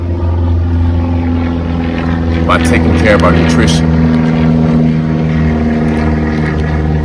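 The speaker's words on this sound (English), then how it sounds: "Of course, planes flying over." Planes overhead make a loud, steady droning engine hum for the whole stretch while a person keeps talking over it.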